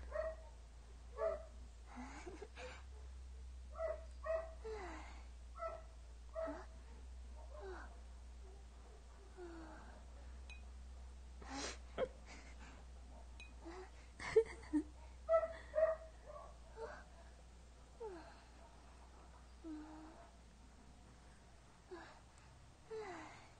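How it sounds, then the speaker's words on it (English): A dog barks and whimpers in short, scattered bursts from across the room, faint and intermittent over a quiet hum, with sharper yelps clustered midway. "my dog won't shut up"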